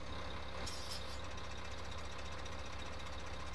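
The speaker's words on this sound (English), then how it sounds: "Shall we take the tractor first?" Tractor engine in the video game Farming Simulator 15, a steady low diesel drone with a knocking, rumbling texture that runs continuously at a constant level, with no talk over it.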